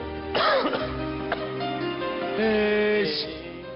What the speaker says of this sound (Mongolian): Ханиалгасаар л байна уу чи